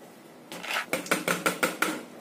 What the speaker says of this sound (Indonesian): Kemudian kita masukkan kacang hijaunya.